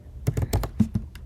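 A few quick keystrokes tapped on a computer keyboard, about half a dozen close, crisp clicks in an irregular burst, with no voices.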